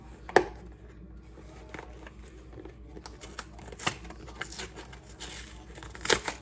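A cake mix package is torn and crinkled open in a home kitchen while making a slow cooker apple crumble, with close, sharp rustles and crackles of paper and plastic scattered irregularly, a few louder tears standing out.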